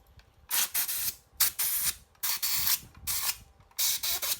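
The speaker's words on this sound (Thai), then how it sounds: "เราจะถอดฝาข้างบนออกก่อนนะครับ เก็บน็อตไว้ให้ดีครับผมทุกตัวเลย" Nuts are unscrewed from the top cover of a Macnum 5200 G9 chainsaw with a ratcheting tool, producing five close, bright bursts of rapid clicking separated by short pauses.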